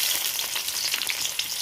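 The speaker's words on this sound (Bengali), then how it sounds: "এবার পেঁয়াজ দিয়ে দেবো" Onions frying in hot oil with whole garam masala, dried chillies and bay leaves, a loud, close, dense crackling sizzle that holds steady throughout.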